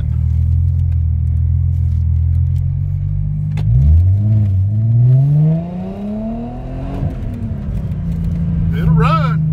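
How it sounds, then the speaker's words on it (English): A car engine running on a test drive after being fixed up, a low rumble that revs and climbs in pitch through the middle of the clip, then settles back to a steady idle-like drone, with a voice talking over it. "We're gonna take it a little test drive."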